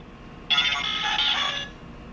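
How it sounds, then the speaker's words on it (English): A short, bright electronic warble from a 2019 Happy Meal toy robot sounds once for about a second, then cuts off into quiet. "you're supposed to speak to the bot and he will speak back or make a noise"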